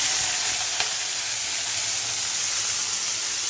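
Onion and garlic paste frying with potatoes and prawns in hot oil, a loud, steady, close sizzle that never lets up, with no talking.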